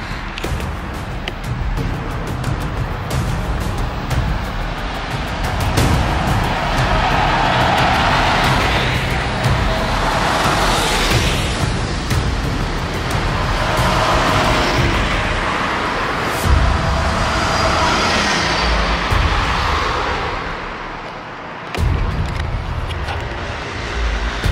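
A bus rumbles closer along a road and goes past, its engine and tyre noise swelling to a broad roar in the middle and easing off afterward, with other road traffic in the background.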